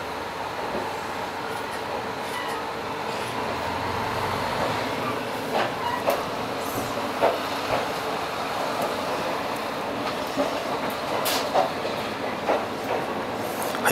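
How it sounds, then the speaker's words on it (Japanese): The Hanatabi Soya train running between Minami-Wakkanai and Wakkanai, heard from inside as a continuous rumble with occasional rail clicks and knocks, steady and moderately loud throughout. "南稚内を出発しまして、次が、終着の稚内に泊まります。"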